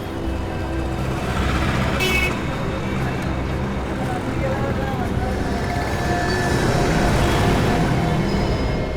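A truck approaches along a road, its low engine rumble and road noise steady and fairly close, with voices talking over it.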